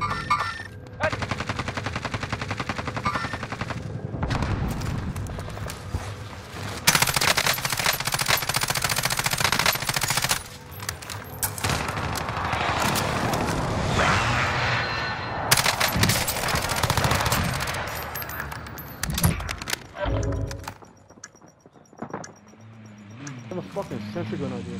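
Sustained bursts of automatic machine gun fire in a Call of Duty: Modern Warfare battle, loud and dense with overlapping shots and explosions, running almost continuously with brief lulls, while players talk over the chaos.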